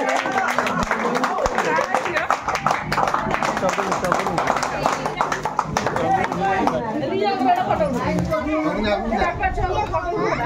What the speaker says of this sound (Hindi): हाथ ए मारा ताली जोर से